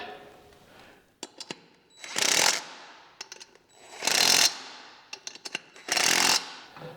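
Impact wrench with a three-quarter-inch socket tightening wheel nuts on a Kubota BX tractor: three loud, close rattling bursts, each under a second, separated by quieter metallic clicks and handling noise.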